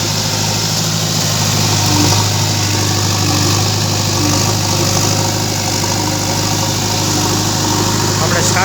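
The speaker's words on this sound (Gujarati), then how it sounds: "આપણું ટ્રેક્ટર છે." A Sonalika tractor engine idles in a loud, unbroken drone with a steady low hum throughout, and faint voices sit beneath it.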